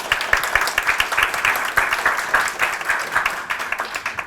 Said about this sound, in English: So everyone just give a round of applause